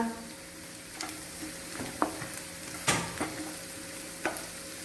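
Shallots being stirred in a frying pan while cooking cauliflower roast, a soft steady sizzle with a faint hum beneath and a few scattered clicks and scrapes of the spoon against the pan.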